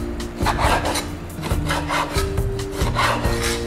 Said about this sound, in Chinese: 最后再切这个五花肉